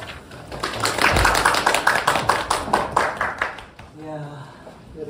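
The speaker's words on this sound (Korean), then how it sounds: "박수로 맞이해 주세요" An audience claps to welcome a lecturer at a restaurant-startup trends talk, a brisk, rhythmic burst of applause that fades out near the end as a voice begins speaking.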